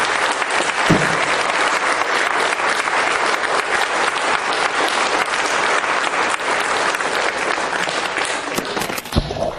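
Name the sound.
audience applause in a religious conference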